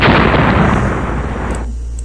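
A loud, booming explosion from a torpedo striking an enemy ship in the naval strategy game Rule the Waves, a dense roaring blast that fills the clip and then cuts off abruptly near the end.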